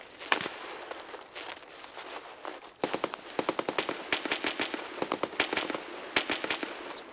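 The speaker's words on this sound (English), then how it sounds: "I heard some shooting right across the way over here." Distant gunfire in Escape From Tarkov: sharp, crackling shots in quick irregular bursts and rapid strings, with faint background noise between volleys.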